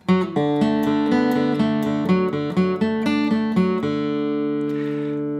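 Close acoustic guitar picks a quick pull-off triplet run from Cooley's Reel, an Irish reel, in a lilting, dance-like rhythm, ending on a ringing sustained chord.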